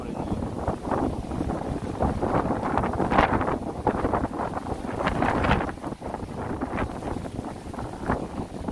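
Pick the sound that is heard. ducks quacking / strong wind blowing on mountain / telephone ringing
strong wind blowing on mountain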